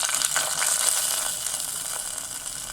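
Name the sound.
ghee-fried cashews sizzling as added to payasam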